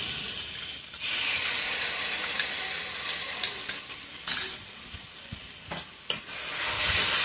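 Ginger and chilli fry with spices in a pan, giving a fairly quiet, continuous sizzle. Several sharp spoon scrapes and knocks punctuate it, and the frying swells louder at the very end. No one speaks.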